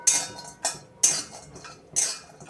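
Grated coconut roasting in a pan for egg curry, stirred with a metal utensil that gives four sharp clinking scrapes at a steady rhythm, close and clear.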